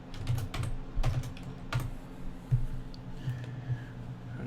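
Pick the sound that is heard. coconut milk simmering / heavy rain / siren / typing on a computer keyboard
typing on a computer keyboard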